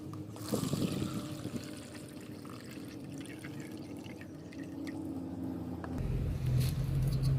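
Water is drained off rice that has soaked for twenty minutes, for a homemade rice microbe mix. A soft, continuous trickle and pour sits close by over a low background rumble, with no talking.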